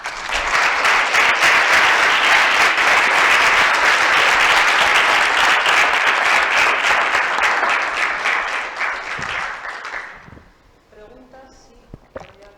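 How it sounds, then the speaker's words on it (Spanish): Steady, loud audience applause after a scientific lecture on regenerative management lasts about ten seconds, then fades quickly to a few scattered claps with quiet voices in the room. "Ah, estabas aplaudiendo."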